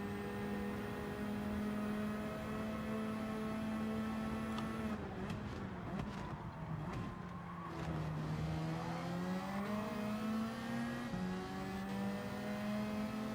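Ferrari race car engine in Gran Turismo 7 revving loud and steady, holding a high drone with pitch swings as it shifts and accelerates, continuous throughout without speech.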